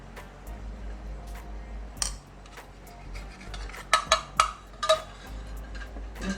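Spoon scraping and clinking against a bowl while grated raw potato is mixed with spices and cornflour, a few sharp metallic knocks in quick succession over quiet background.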